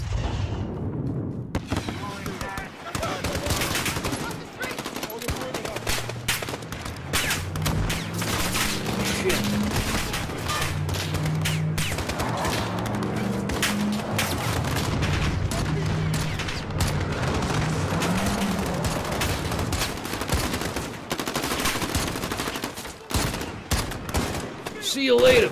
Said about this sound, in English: I can't see where they're shooting from.